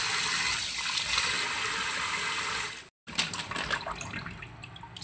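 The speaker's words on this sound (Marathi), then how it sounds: "खेकड्यांना आपल्याला छान पैकी असे धुवून घ्यायचे आहे।" Crabs being washed in water for a crab curry, with a steady rush of running water, a sudden brief cut of silence, then splashing, dripping and knocking sounds nearby.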